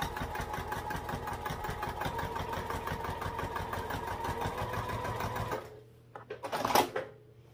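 A sewing machine runs steadily through a thick seam on a backpack, its rapid mechanical stitching loud and continuous for about five seconds before stopping, followed by a few brief clicks and handling noises.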